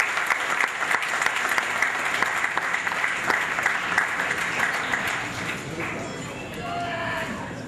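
An audience at an evening event honoring a gold medallist bursts into sustained applause, dense and steady clapping that fades slightly toward the end, with a voice speaking faintly beneath it.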